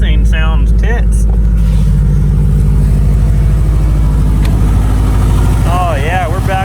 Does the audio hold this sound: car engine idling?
yes